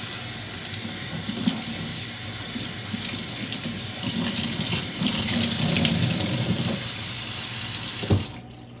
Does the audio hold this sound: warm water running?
yes